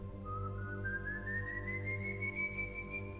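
A thin, faint whistle in the woods slowly rises in pitch and holds, drifting over a low, rumbling ambient drone.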